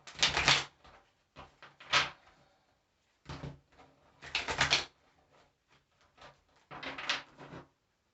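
A deck of tarot cards being shuffled by hand, heard as several short bursts of riffling and flicking separated by quiet pauses, close and fairly soft.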